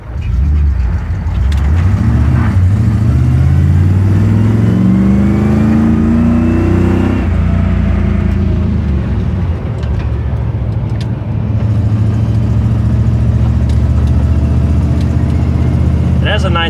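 A car engine revs hard, pitch climbing steadily before dropping back to a rumbling idle, loud and close throughout.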